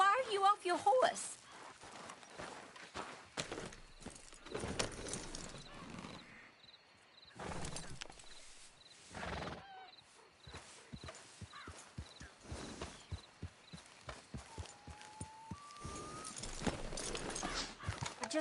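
Hoofbeats from a horse in the video game Red Dead clop in uneven bursts, at times quick and close together, with voices talking over them and a brief whinny.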